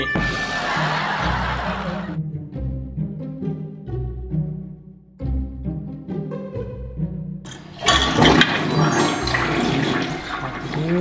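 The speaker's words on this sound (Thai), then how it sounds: "เสียงโฟกัสกดชักโครก" Laughter and chuckling come first, followed near the end by a loud rushing toilet flush that swells and keeps gushing.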